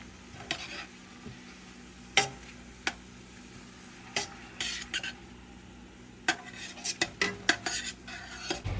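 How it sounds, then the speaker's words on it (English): Vegetables for a cheesy turkey spaghetti casserole sauté in a pan, with a soft, steady sizzle under intermittent clinks and scrapes of a utensil stirring against the pan, all without speech. "while Nikki's got the veggies sauteing"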